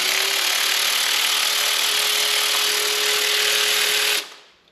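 A cordless power tool whirs steadily on an engine's spark plugs, loud and close with a constant pitch, then winds down and stops near the end; no voices.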